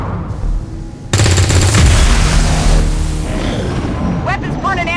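Machine gun fire from the video game XCOM 2 erupts in a loud, sustained burst after a brief quieter lead-in, a dense rattling barrage of rapid shots and booms, with game voices faintly in the mix.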